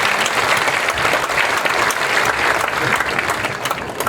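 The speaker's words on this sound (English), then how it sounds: "A big round of applause for all of them is in order." A large graduation ceremony crowd at a high school breaks into sustained applause, a thick continuous wash of many hands clapping, loud and steady across the whole clip.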